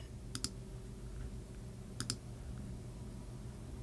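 A computer mouse in a photo editing session gives two quick double clicks, faint and close, about a second and a half apart, over a low steady room hum.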